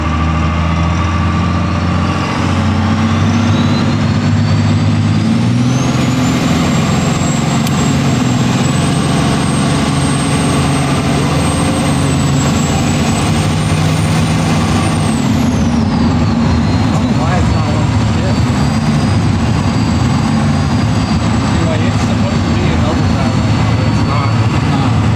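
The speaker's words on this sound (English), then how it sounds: "one thing I'm loving about this thing is it just has all the turbo sounds." Turbocharged 800 HP hood-stacked first-generation 12-valve Cummins diesel truck engine running with a loud, steady rumble and a rising, falling turbo whistle throughout, heard up close.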